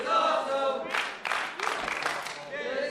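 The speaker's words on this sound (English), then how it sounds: "Crowd voicing their approval of this action." A professional wrestling crowd in an Arizona arena roars and cheers in rising waves, loud and continuous, with bursts of shouting and clapping and a commentator talking over it.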